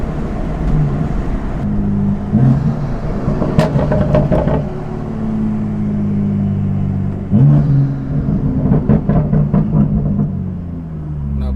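BMW M2 with a VRSF catless downpipe, its exhaust revving up and settling back in two rising bursts over a steady deep rumble, loud and close.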